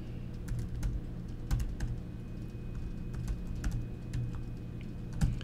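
Typing on a computer keyboard while writing code, steady close clicking keystrokes with a few louder taps in an irregular rhythm, heard alone without talking.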